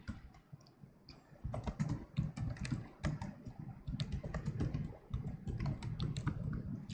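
Quick, irregular clicking of keys on a computer keyboard as a Google search for funny videos is typed, close and fairly quiet, with short pauses between bursts of keystrokes and no talking.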